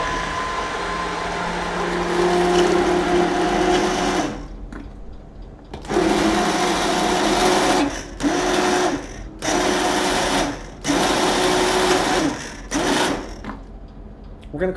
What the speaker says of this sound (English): We're going to be using an immersion blender here.